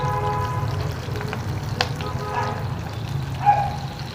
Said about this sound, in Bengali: একটু এই তেলেতে ভেজে নেব